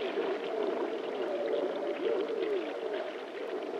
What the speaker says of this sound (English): the skilled observers here is Mike Pelorts, presently watching the passage of a beluga whale in the lead